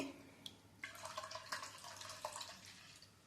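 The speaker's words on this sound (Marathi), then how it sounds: "अजून मी 1 ग्लासभर ह्यात पाणी घालते" Water pours and splashes into a glass of raw mango drink in short gurgling bursts, close and fairly quiet.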